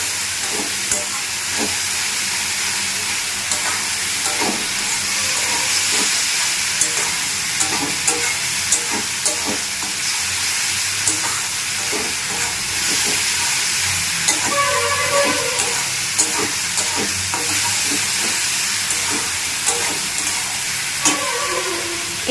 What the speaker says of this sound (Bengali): এরপর আবার মশলাটিকে কষাতে থাকবো।